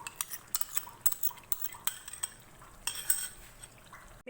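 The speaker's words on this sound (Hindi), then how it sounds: "मिक्स कर लेंगे इन दोनों चीज़ों को अच्छी तरह।" Spoon stirring yogurt and tamarind paste into chicken in a pot, a run of light scraping clinks and soft wet sloshes in an uneven rhythm, close and fairly quiet with no talking.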